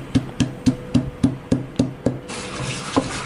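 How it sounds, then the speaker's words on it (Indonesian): Chilies, shallots and garlic are ground with a stone mortar and pestle, giving a run of evenly spaced dull pounding thumps, close and steady, that give way to a softer scraping grind. "Di sini aku menghaluskannya menggunakan ulekan aja."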